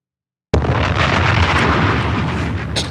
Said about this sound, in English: You hear it? Explosion.